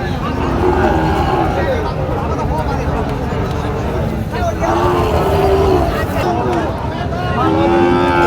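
Cattle, including Sahiwal bulls, low repeatedly amid a busy crowd, with people chattering and talking all around in a noisy, bustling livestock market in Joypurhat.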